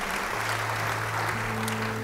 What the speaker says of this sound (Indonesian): Beri tepuk tangan yang meriah bagi dia.